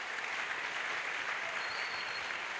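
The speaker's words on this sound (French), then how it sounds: "Acclamation à Jésus" A congregation at a church gathering in Douala applauding in praise of Jesus, producing a steady, even wash of clapping from many hands at moderate volume, with no voices above it.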